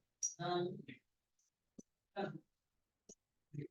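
A computer keyboard and mouse give two or three sharp, isolated clicks in the pauses while a person talks over MS Word editing.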